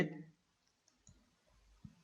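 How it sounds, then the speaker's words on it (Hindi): Mouse clicks while editing in a video editor, a few soft isolated clicks spaced apart at close range in a quiet room, with a brief voice fragment at the start. "मैंने दोबारा स्प्लिट पर क्लिक किया"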